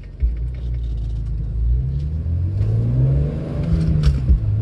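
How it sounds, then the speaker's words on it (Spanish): BMW M3 on the road, its engine rumbling deep and loud as it revs and climbs, with a continuous low roar of the drivetrain heard from close by. "No sé si oiréis el motor por el teléfono, pero bueno, la verdad que es una gozada"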